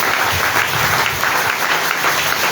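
Dense, steady applause from a church congregation acclaiming the Lord Jesus during a French-language sermon, a loud continuous wash of clapping with no break.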